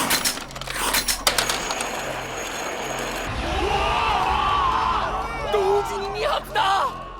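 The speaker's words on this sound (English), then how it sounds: "The crowd in the casino grew excited." An excited crowd in a casino whoops and yells over a steady babble of voices, with clinking coins or chips near the start and a few louder shouts rising toward the end.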